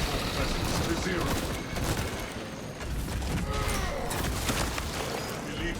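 A full-auto heavy plasma incinerator fires rapid bursts in a video game, a dense crackling barrage running the whole way through with mechanical clatter mixed in and game voices talking over it.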